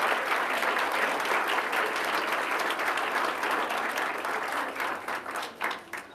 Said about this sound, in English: Another round of applause for our 2026 Arizona All-State Elementary Orchestra Festival.